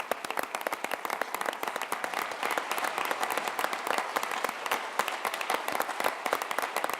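Sustained audience applause at a school business challenge event recognizing teachers, dense steady clapping from a large crowd throughout, fairly loud with no talk over it.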